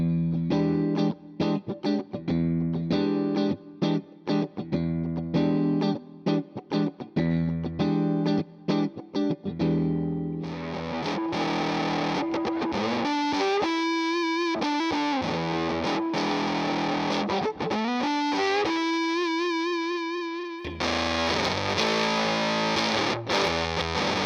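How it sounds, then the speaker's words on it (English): Electric guitar run through three Kemper profiles, first chugging clean-edged riffs with crisp stops, then a sustained distorted lead with bends, then a thick fuzz tone, loud and alone. "I made 3 profiles. One was a clean, one was a distortion, and one was like an all-out fuzz."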